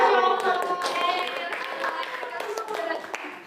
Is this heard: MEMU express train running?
no